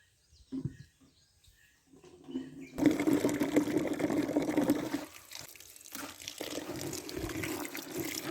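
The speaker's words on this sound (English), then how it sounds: "Our laundry is hand washed" Laundry being washed by hand in water in a village setting, with steady sloshing, rubbing and splashing that starts softly and grows fuller and continuous.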